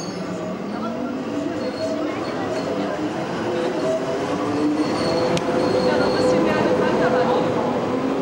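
A Berlin S-Bahn class BR 480 electric train runs near Wannsee station with a steady, loud rolling rumble and thin wheel squeals rising over it throughout.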